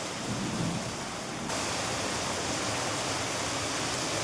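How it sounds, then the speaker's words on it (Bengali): Heavy rain pours down steadily during a thunderstorm, a dense, loud roar that swells noticeably midway, with no voices. "বড় বড় বাজ পড়ছে, বিশাল বাজ"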